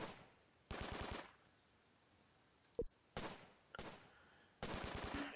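In a single-player video game battle, rapid machine-gun bursts hammer at a Crocodile tank in four separate volleys, with quiet gaps between them and a single sharp shot in the middle.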